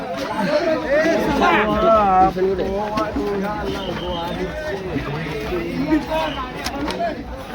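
Crowd chatter at a palkhi procession: a dense babble of many voices close by, with louder individual voices rising over the general hubbub.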